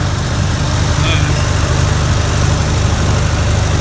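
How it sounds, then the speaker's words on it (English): A Farmall Super C tractor's small gas engine runs steadily in cold weather, a loud, constant low rumble with no break. "The Super C will start in any weather. Little tiny gas engine like this"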